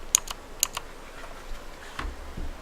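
Crisp clicks from a Skorpion K2 RGB mechanical gaming keyboard, a few sharp separate key presses near the start, then softer, duller taps trailing off, close and fairly quiet.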